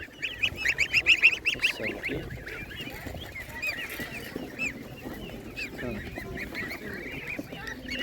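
Pedigree geese at a market honk in a quick burst of repeated nasal calls, then keep up scattered, fainter honks and clucks over busy outdoor background noise.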